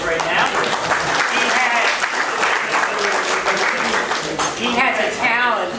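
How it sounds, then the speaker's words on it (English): A men's club audience gives a round of applause at a meeting, a loud, dense patter of many hands lasting several seconds, with voices calling out and talking over it toward the end. "with a round of applause right now"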